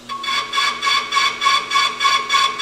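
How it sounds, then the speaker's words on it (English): Worn, slightly warped steel brake rotor from a 40-year-old tow truck being cut on a brake lathe, a loud close rhythmic scraping that pulses about three times a second with a high metallic whine. "Throw the rotor on the lathe"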